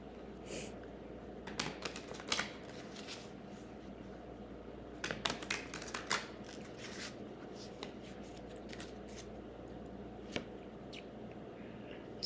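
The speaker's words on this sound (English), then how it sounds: "Give these a ruffle shuffle and see what we have with it." Tarot cards are shuffled and riffled in quiet, close, soft papery flutters and taps that come in short bursts over a faint steady background hum.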